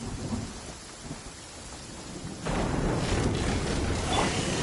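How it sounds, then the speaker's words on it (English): Heavy rain pours steadily in a Genshin Impact downpour, with a low thunder rumble swelling midway as the rainfall grows denser and louder, filling the whole scene with no voices. "Taking a stroll in the middle of a downpour certainly rouses the spirit."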